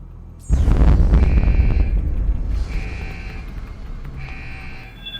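A loud alarm blares in Deus Ex: Human Revolution, starting abruptly with a heavy low rumble and repeating steady buzzing tones that pulse in waves while a tune plays along.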